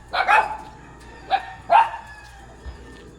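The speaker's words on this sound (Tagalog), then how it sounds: "Nahabol yung aso." A dog barks several times in short bursts, a double bark followed by two single barks, moderately close with quiet between.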